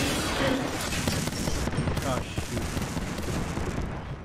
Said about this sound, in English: So they're shooting at me.